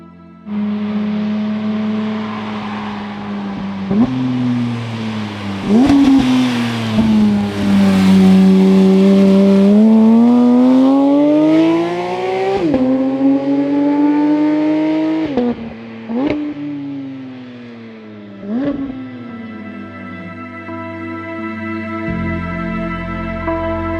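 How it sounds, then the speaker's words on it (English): A 992.2 Porsche GT3 approaches and roars past at close range, its engine note rising and falling through gear changes before fading away, with no talking. "a drive-by to really hear what my GT3 sounds like"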